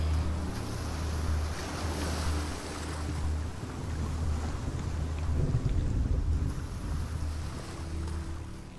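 Steady water ambience in the Hellblade video game, a continuous low rushing wash like waves or flowing water filling the scene at even loudness, with no voices.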